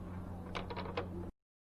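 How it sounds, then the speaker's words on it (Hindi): A lock bolt on an Akrapovic exhaust of a Yamaha R15 V3 motorcycle is tightened with a few quick ratcheting clicks over a low steady hum, close, before the sound cuts off abruptly. "इसको थोड़ा सा और हम लोग को टाइट करना पड़ेगा"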